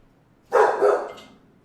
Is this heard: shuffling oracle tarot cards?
no